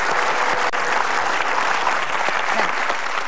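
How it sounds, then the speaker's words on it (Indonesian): An audience at a motivational talk show claps for two participants called to the front, a short burst of continuous, fairly loud applause filling the room without pause. "Oke, berikan tepuk tangan dulu kepada mereka berdua."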